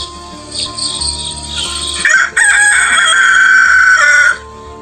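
A rooster crows loudly and close in a school drama performance, a long drawn-out call rising and holding over background hum and faint crickets.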